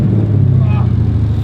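Low throaty rumble of a BMW E34 fitted with an S62 V8, a short burst of engine drone heard from inside the moving car, with a voice faintly over it.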